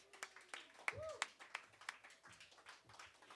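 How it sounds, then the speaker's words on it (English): Sparse, scattered clapping from a small open mic audience on a Monday night, a few separate hand claps and taps spread across a few seconds, quiet and close, with faint voices. "We should give him a round of applause."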